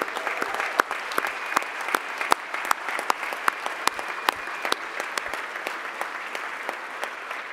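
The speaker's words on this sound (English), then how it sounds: "So a round of applause, please, for our supporters." Audience at a charity gala roast applauds the event's supporters, with a moderate, steady patter of many hands and distinct individual claps standing out, heard alone without speech.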